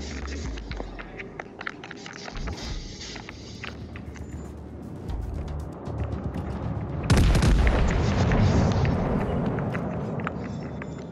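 Naval artillery fire in World of Warships: Legends, with heavy booming salvos that end in a large, sustained roar about two-thirds through, loud and close over rumbling game ambience.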